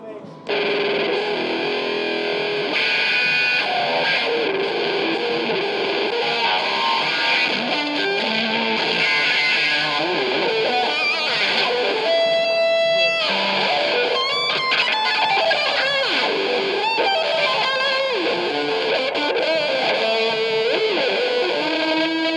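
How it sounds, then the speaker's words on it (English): A heavily fuzzed electric guitar through a silicon fuzz pedal plays sustained, saturated chords and bends continuously, loud and thick throughout. "you'll notice the silicon fuzz is a little bit hotter, but it's still detuned"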